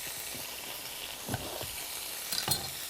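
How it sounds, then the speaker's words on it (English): Chicken with peppers sizzles and crackles in a hot pan for Szechuan chicken, a steady hiss punctuated by a few louder pops and stirring scrapes. "Hear that sizzling away."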